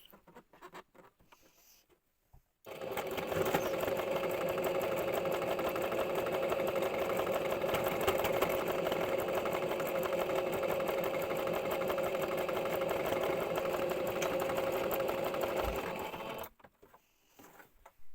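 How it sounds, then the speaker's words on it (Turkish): A sewing machine stitches the elastic waistband of a skirt, running as one steady, close whir for about fourteen seconds, with brief quiet before and after and no talk. "lastiği diktikten sonra kalan açık kısmı da dikiyoruz."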